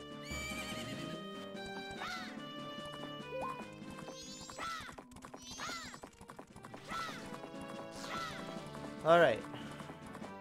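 Epona, the horse in the Zelda Majora's Mask video game, neighs several times over galloping hoofbeats and synthesized game music, while a player talks over the game sounds.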